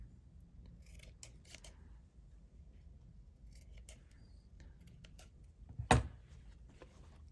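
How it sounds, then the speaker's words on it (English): Scissors snip embroidery thread loops in a few quiet, close cuts spread across a hushed room, with one sharper, louder snip near the end. "Just keep on snipping until it gets to a length that you want. I do need to snip all the loops."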